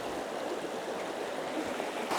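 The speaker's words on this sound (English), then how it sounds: "So this is the River Mells." Steady broadband rush of the River Mells flowing through woodland near Mells, Somerset, a continuous close water murmur with no voices.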